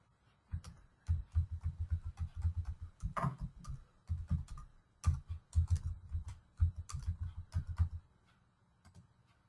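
Rapid typing on a computer keyboard during a SQL Server plugin setup, a steady run of close, crisp key clicks in bursts with brief pauses, stopping near the end.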